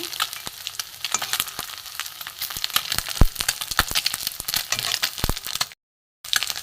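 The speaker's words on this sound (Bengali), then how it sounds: "মাছগুলো ভাজা হয়ে গেছে তুলে নেব" Small Ganges mourola fish frying crisp in hot oil, a steady crackling sizzle with scattered sharp pops and spatters throughout, close by, briefly cutting out near the end.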